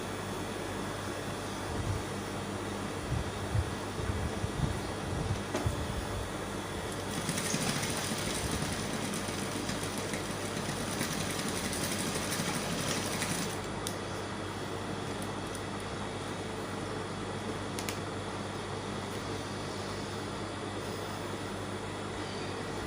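Sewing machine stitching a bra cup into a bustier, a continuous low mechanical hum with faint ticking under steady background noise throughout.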